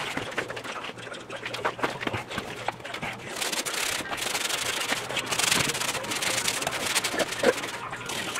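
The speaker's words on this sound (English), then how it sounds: "We'll get the sandpaper to clean it off a little bit better." Sandpaper rubbed over a pipe using a flexible foam pad of about 200 grit, giving a steady close scratchy rasp that runs the whole time with small knocks and no talking.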